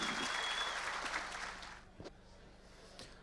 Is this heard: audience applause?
yes